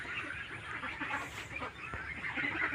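A flock of ducks files into their shed from an open field at dusk, a dense chorus of overlapping quacks and honks moderately close that carries on without pause.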